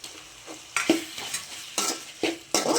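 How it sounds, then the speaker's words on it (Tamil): Prawns sauté in hot oil with masala, a spoon scraping and stirring the pan in a run of sharp, repeated strokes over a soft background sizzle, close and fairly quiet with no talking. "நல்லா இந்த எண்ணெயிலேயே வதக்கிக்கணும். இந்த மசாலா கூட சேர்த்து வதக்கணும்."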